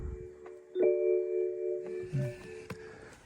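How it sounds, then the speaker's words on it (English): Gong-like chime inside a newly delivered car, a single clear tonal strike near the start whose sustained ringing tone lingers over a quiet cabin, with a few soft clicks and rustles afterward. "there's that gong noise."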